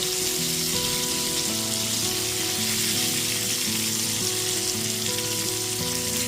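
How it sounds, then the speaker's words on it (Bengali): Pieces of pointed gourd (potol) frying in oil over a medium gas flame, a steady close sizzle with occasional stirring, continuous throughout. "গ্যাসের ফ্লেমটা মিডিয়ামে রেখে বারবার নাড়াচাড়া করে পটলটাকে লাল করে ভেজে নেব।"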